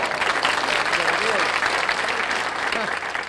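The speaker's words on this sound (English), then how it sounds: "That's a courtesy applause" A studio audience gives polite courtesy applause at a 1967 variety show, a steady even wash of clapping that holds for a few seconds before starting to thin.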